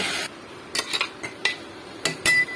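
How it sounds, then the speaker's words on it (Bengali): A lentil mixture is stirred in oil in a pan, heard as several sharp metallic scrapes and clinks of a spoon against the pan, separated by short near-silent gaps, with no sizzle or speech. "তেলের মধ্যে দিয়ে এটা ভালো করে নাড়াচাড়া করে দেবে, জলটা শুকনো অবধি।"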